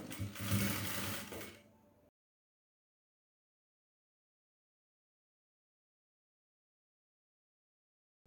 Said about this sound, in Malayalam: പ്ലീറ്റ്സ് കൊടുത്ത് സ്റ്റിച്ച് ചെയ്തെടുത്ത പോർഷൻ നമ്മുടെ ക്ലോത്തിൻ്റെ നല്ല പോർഷനിലായിട്ട് വച്ച് അറ്റാച്ച് ചെയ്ത് സ്റ്റിച്ച് ചെയ്ത് കൊടുക്കാം